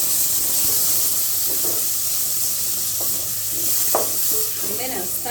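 Tomatoes tipped into a pan of sizzling onions and garlic for a matoke and beef stew, giving a loud continuous hiss of frying with a few stirring scrapes and clinks, close by.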